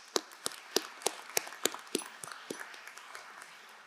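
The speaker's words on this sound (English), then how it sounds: "please join me in recognizing Professor Ederer with another round of applause for this well-deserved award" Sparse applause at a business school commencement ceremony honoring a professor, a handful of distinct claps in a slow, uneven rhythm that thins and fades toward the end.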